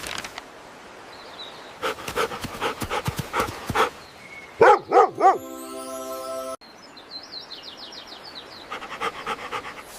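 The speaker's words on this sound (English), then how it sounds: "Max found the scent. Good boy, Max." A dog on a scent trail pants in quick bursts and gives a few sharp barks and yips, close by, with whistling cartoon sound effects between them.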